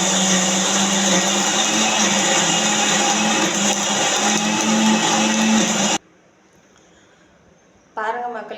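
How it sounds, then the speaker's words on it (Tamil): A kitchen mixer grinder blends homemade thuvaiyal ingredients with a little salt. It gives a loud, steady whirring roar for about six seconds, then cuts off abruptly into near quiet before a voice begins speaking. "பாருங்கள் மிக்சியில் எல்லாத்தையும் போட்டாச்சு. கொஞ்சமாக உப்பு சேர்த்துருக்கேன். பாருங்கள், இப்போ நான் அரைக்க போகிறேன்"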